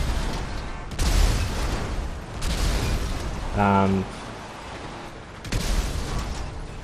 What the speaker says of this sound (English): it's cool for just driving into stuff and making an explosion.